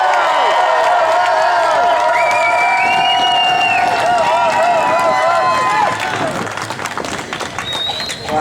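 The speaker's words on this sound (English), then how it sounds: "A round of applause for Vincent." At an outdoor marijuana march, a crowd claps and cheers for a speaker, a dense, loud swell of applause with whoops and whistles that thins out toward the end.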